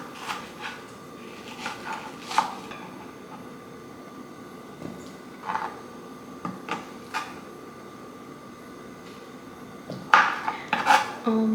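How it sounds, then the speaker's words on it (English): A knife chopping fresh produce on a cutting board in a home kitchen, scattered sharp knocks and taps at an irregular pace with quiet gaps and a quicker cluster of hits near the end, close and alone. "now let me chop these up"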